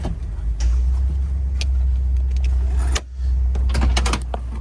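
A 1975 Pontiac Grandville's engine idling with a low rumble while its motorized convertible roof whirs and clunks through its movement, with a short pause partway before resuming.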